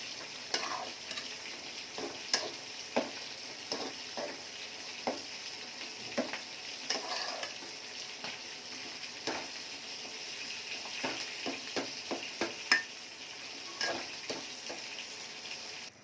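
Shrimp fries in oil for greens cooked with hilsa innards, giving a steady background sizzle broken by repeated close spatula stirs and scrapes, with no talking.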